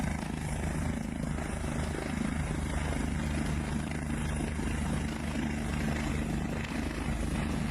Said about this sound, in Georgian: საინტერესოა თუ როგორ ჯდება ვერტმფრენი მთის ფერდობზე.